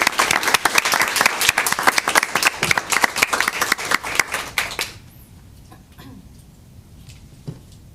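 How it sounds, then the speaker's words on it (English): Audience at a Board of Education meeting giving one more round of applause: dense, loud clapping for about five seconds, then a sudden drop to quiet room noise with a few faint sounds. "How about one more round of applause?"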